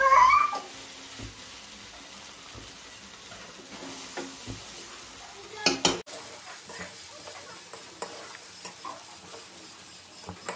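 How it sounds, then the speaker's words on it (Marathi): Aloo poha being stirred in a pan, with faint scraping and shuffling strokes scattered through a quiet kitchen, a sharper clatter near the middle. "हलवून घेऊया."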